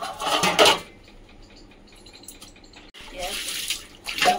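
Water running and splashing as chicken meat is washed by hand in a home kitchen, with clattering of dishes and utensils, loud bursts at the start and end, and a voice talking over it.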